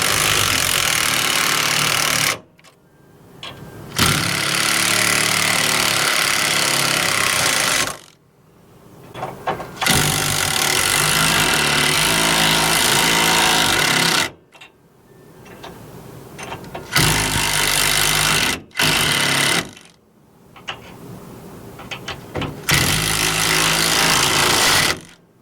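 An impact driver hammers bolts tight on a steering stabilizer under a P32 Workhorse motorhome, several loud rattling bursts of a few seconds each, broken by brief pauses.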